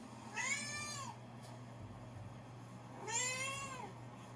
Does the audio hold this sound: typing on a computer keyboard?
no